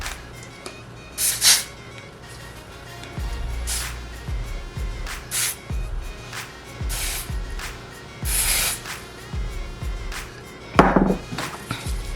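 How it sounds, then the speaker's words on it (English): Several short hissing spray bursts from a pump bottle onto the lace of a wig, spaced irregularly, close by, with faint handling noises between them. "I'm just gonna spray this right on the lace"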